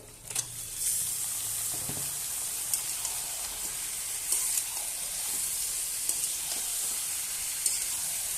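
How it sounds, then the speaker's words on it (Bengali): Chicken meat sizzling as it hits lightly fried onions in a hot pan, a steady bright hiss with small crackles and occasional stirring scrapes, alone without talk. "তো পেঁয়াজটা আমি হালকা করে ভেজে নিয়েছি, এবার আমি মাংসটা দিয়ে দেবো।"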